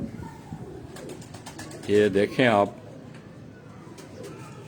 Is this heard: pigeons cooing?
yes